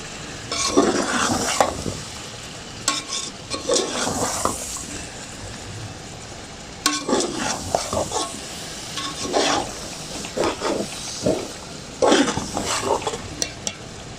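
Potatoes and eggplant coated in masala are stirred in a frying pan, with bursts of scraping and sizzling coming in uneven waves and brief metallic clinks against the pan, close and fairly loud, with no talking.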